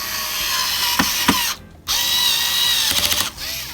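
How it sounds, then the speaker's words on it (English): A cordless power drill drives screws on a narrowboat in short whirring bursts with ratcheting clicks, stopping briefly between runs; close and fairly loud, no talking. "I'm just using my drill, which is now charged up"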